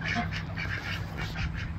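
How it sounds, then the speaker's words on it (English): Mandarin ducks quack at a pond, a fairly quiet run of repeated calls over steady outdoor background noise. "I mean the mandarin ducks"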